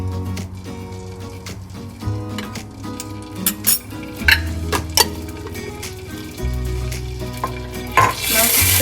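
Schezwan pasta frying in a pan while a spoon stirs it, producing a continuous sizzle with scraping strokes and occasional clinks of metal on the pan.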